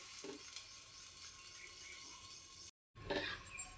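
Thalipeeth sizzling in oil in a pan as it steams, a steady hissing crackle with a brief drop to silence before the sizzle resumes louder.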